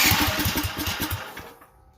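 A Duromax 440cc generator engine cranks and briefly fires with rapid rhythmic pulses, loud and close, then sputters and fades out within two seconds.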